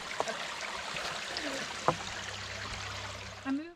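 Clear water of Brushy Creek trickles and burbles steadily close by in a forest on an overcast, cold morning, with a faint knock and a brief squeak near the end.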